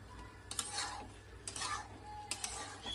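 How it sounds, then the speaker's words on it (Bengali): A spoon stirs Kashmiri aloo dum in a pot several times in short bursts, soft scraping and clinking against the metal, close and quiet. "ভালো করে নেড়ে চেড়ে একটু ঢাকা দিয়ে দেবো।"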